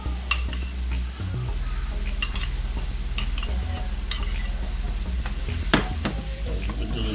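Ackee and saltfish with vegetables is stirred in a hot pan, a steady soft sizzle running under the scrapes of a utensil, with quick metallic clinks scattered throughout.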